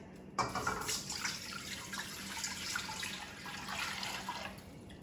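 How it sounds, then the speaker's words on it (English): Steady broadband pouring of water into a pot, a continuous liquid rush close by with a soft splash at the start, lasting several seconds at moderate loudness. "so we gotta pour the water in"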